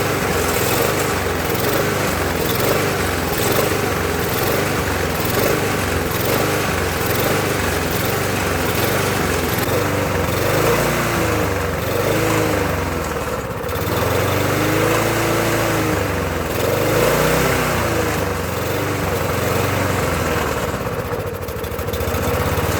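A Murray lawn mower's small gasoline engine runs steadily and then settles into a smooth idle, loud and close throughout with a constant rumbling drone and no voices over it.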